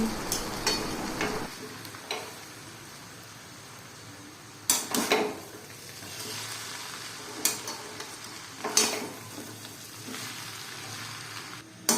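Chicken chowmein is stirred and tossed in a pan, with a quiet background sizzle and intermittent bursts of utensil scraping and clanking spread across the stretch.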